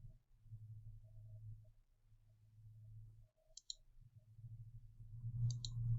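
A computer mouse clicks a few times, short and crisp, close by over a steady low hum.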